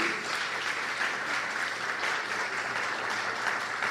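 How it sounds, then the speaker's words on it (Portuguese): Dense, steady applause from a crowd at a Portuguese-language stage show, a continuous wash of many hands clapping at even loudness for several seconds with no voices on top. "eu queria pedir uma salva de palmas por eles que estão aqui"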